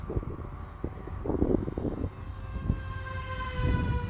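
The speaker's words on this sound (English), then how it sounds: "We'll get her lined up for a high-speed pass here." A small Hobbyzone Aeroscout RC airplane makes a high-speed pass outdoors. Its electric motor whine rises and then eases off over several seconds against steady wind and background noise.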